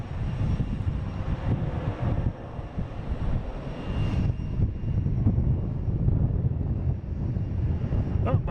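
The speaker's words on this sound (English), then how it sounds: "next will be the Kahunga A380-800 coming in from London Heathrow" An Airbus A380-800 arriving from London Heathrow sends out a heavy, sustained low engine rumble with wind buffeting, steady and loud throughout.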